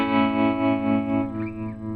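A sustained electric guitar tone through a modulation pedal, with a swirling, wavering modulation that fades partway through as the pedal is dropped, steady and moderately loud, no voices.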